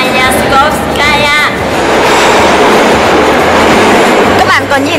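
A Moscow metro train runs through an underground station, a loud, steady rumble with brief high-pitched squealing tones at the start and end.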